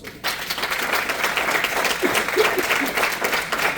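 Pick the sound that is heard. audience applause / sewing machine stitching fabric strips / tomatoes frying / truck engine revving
audience applause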